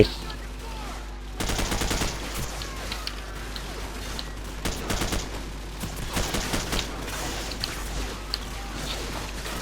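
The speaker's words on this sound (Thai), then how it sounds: "โดนยิงอยู่เนี่ย โอ้โห แม่งยิงประกบอย่างนี้เลยวะ" Bursts of rapid gunfire in the video game Call of Duty 4: Modern Warfare crackle in short volleys, repeated several times over a low background hum, with faint talk between the shots.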